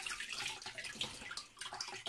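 Tap water splashes unevenly across an 8-inch Soligor MT-800 Newtonian telescope mirror being rinsed under the faucet, a short burst of close spattering that briefly thins out before picking up again.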